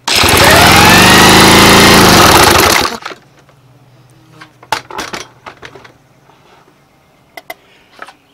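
A 1970 Fisherman outboard motor is cranked over for a compression test on its top cylinder, a loud rhythmic churning burst for about three seconds, then quiet with scattered clinks and taps nearby.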